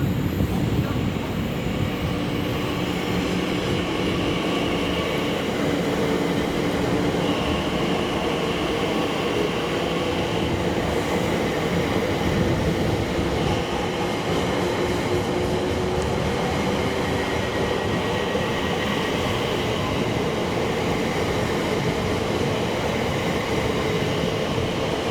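Loud, continuous rumble and rattle of a train running between Forest Gate and London Liverpool Street, heard from inside a carriage. Wheels and motor drone steadily for the whole stretch with no talking.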